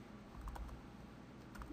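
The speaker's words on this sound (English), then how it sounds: "I hate typing." Computer keyboard typing while coding a decorator pattern in software, a faint run of soft, quick key clicks at a steady pace with no talk.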